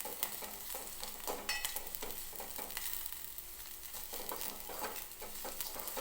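Grated dry coconut and onion roast in a pan, producing a soft, faint sizzle with occasional light scraping from stirring and no voices.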